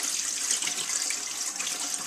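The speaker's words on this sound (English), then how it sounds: "I'm just going to tilt it on its side and drain the water out" Water pours and splashes out of a sprouting jar tipped onto its side, a steady close hiss of draining liquid that runs unbroken without any voices.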